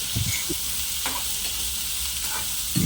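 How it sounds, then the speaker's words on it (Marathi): Chopped onion sautés in a pan for rava upma under a steady, even sizzle, with a few soft scrapes of a spoon stirring it close by. "कांदा चांगला परतवून घेऊया"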